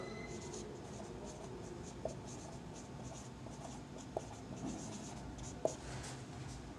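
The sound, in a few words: writing out a maths solution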